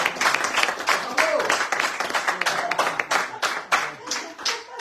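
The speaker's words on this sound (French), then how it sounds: "Vous la rencontrez, Alexandra, on peut l'applaudir." Steady applause from an audience, many hands clapping densely and continuously at moderate loudness throughout.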